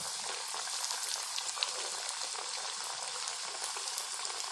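Snacks deep-frying in hot oil, a steady dense bubbling sizzle that holds evenly throughout, close and moderately loud with no talking.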